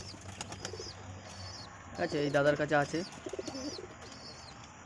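Kalchira Madras pigeon cooing softly near other birds, with repeated faint chirps throughout and someone speaking briefly over the middle of it.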